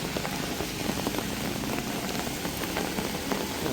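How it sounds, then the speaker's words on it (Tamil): Heavy storm rain pours down in Jaffna near a temple, a dense steady roar of drops pattering on surfaces, loud and continuous with scattered sharper splashes. "பாருங்க மழை வந்து இவ்வளோ பெருசாக"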